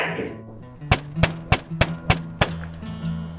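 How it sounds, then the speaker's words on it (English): Loud knocking and banging: six hard, evenly spaced thuds in quick succession, close and booming, following a brief rustling lead-in, then a lingering low rumble. "Oh, what's with all the knocking?"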